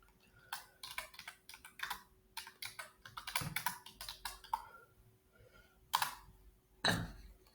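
Keys clatter on a computer keyboard while typing a plugin search, coming as uneven bursts of crisp, close clicks with short gaps between words and a couple of heavier strikes near the end.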